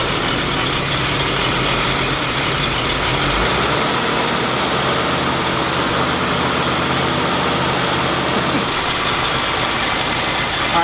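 A Toyota Crown engine runs and idles steadily, loud and close, with a rough low rumble that holds throughout and eases slightly near the end.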